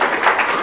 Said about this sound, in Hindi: ताली बजाएं इनके लिए।